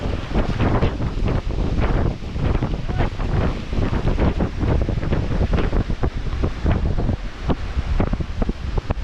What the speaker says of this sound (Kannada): ಸಮುದ್ರ ಸಮುದ್ರ